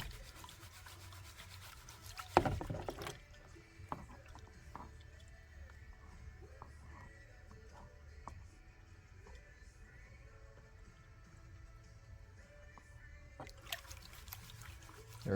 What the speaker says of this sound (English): So let's get started panning.